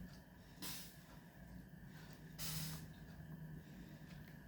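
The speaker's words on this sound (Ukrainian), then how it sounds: "І так смажемо всі." Sausages coated in onion batter fry in a pan. Two short bursts of hissing sizzle stand out against a quiet, faint background with no talk.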